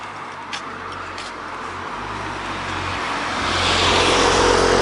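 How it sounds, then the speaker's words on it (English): Cars pass on a road near a church in Laughton en le Morthen, a steady traffic rush that swells louder toward the end as a vehicle approaches, with no voices. "cars are flying by."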